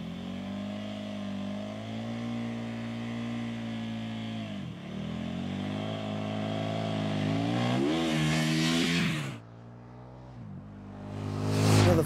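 KTM 1290 Super Duke R naked motorcycle engine revving, a loud sustained rumble that climbs in pitch over several seconds, cuts off sharply, then surges again in a final rev, with no talking.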